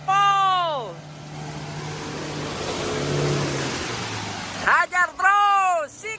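An off-road vehicle's engine revs at full throttle, a rising and falling drone that swells in the middle, with loud harmonic voice-like shouts at the start and end over it.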